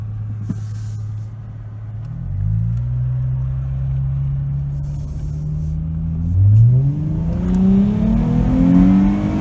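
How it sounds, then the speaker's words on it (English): A Chrysler 300 AWD with a 3.6 V6, performance exhaust and intake revs up steadily, its rising drone and exhaust note climbing in pitch as it accelerates, close and fairly loud, with no talking. "you can hear the engine and hear the exhaust a little bit more"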